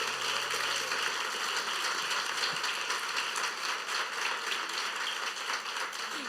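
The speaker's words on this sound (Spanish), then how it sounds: "Un aplauso para el Señor" Church congregation applause, a steady, even hiss of many hands clapping at moderate distance, sustained without pause and no voices on top.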